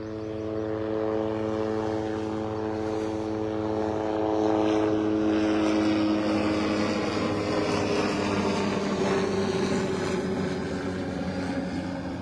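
A helicopter passes overhead at Vanderbilt Beach, North Naples, Florida, with a steady, loud droning engine and rotor hum that swells toward the middle and slowly fades, with no voices.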